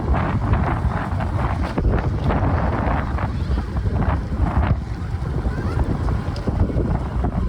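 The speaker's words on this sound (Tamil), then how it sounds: "அந்த அளவுக்கு பயங்கரமாக காத்தடிக்க தொடங்கிடுது பாருங்க" Strong wind gusting in Jaffna during worsening weather, a loud, rough roar buffeting the microphone in uneven surges throughout, with occasional voices underneath.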